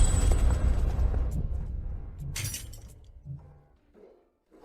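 A car window shatters in a loud burst, followed by scattered tinkling and clinking glass fragments that fade over a few seconds with a couple of late small impacts, no voices.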